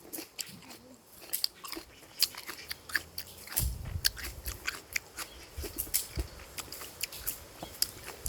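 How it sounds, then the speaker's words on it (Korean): Crisp, wet crunching as someone bites into a raw storage onion and chews it, with repeated sharp crunches close to the mic and no talking. "저는 양파 정말 좋아해서 사과처럼 먹기도 한답니다."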